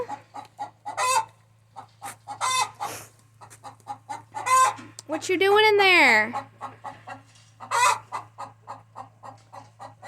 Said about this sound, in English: this is my chicken area.